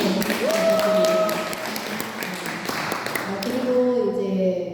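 Audience applause at a healing camp gathering, a round of clapping that swells and then fades over a few seconds, with a voice talking over it and a brief whistle-like tone.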